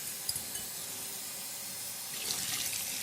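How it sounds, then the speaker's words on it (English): Cold tap water runs steadily into a kitchen sink while egg dishes are rinsed, a continuous hiss and splash that swells louder near the end, with no talking. "So we're going to come over here to the sink, just rinse this in cold"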